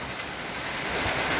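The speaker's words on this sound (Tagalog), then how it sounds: "Napakalakas talaga ng ulan." Heavy rain from Typhoon Inday pours down in a dense, steady hiss that swells slightly over a brief moment.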